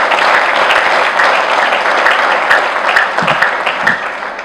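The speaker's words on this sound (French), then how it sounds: "Ce courage-là, ça mérite vos applaudissements" Audience applause at a political party congress in Kisangani, a loud, steady mass of hand claps filling the whole stretch with no pauses and a few sharper individual claps standing out near the end.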